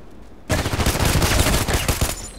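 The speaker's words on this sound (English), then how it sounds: "But if you go on single shot like I do now," Rapid gunfire from an OTs-33 Pernach automatic pistol in the shooter game Contract Wars, a dense loud burst of shots beginning abruptly after a short quiet lead-in.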